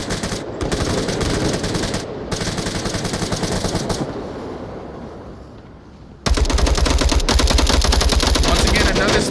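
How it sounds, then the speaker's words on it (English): Suppressive fire in the VR shooter Onward comes as long, loud bursts of automatic rifle fire, cut by short gaps, fading briefly, then resuming as a sustained close rattle. "Face putting a lot of suppressive fire onto them."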